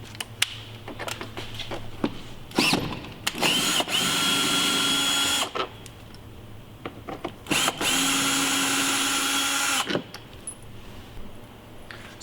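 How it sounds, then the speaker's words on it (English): A power driver with a T25 bit backs out screws during a Sprinter van remote start install, with two long steady whirring runs among short bursts, clicks and rattling handling noises, close up and without talk. "we're going to start by first removing these two T25 screws right here."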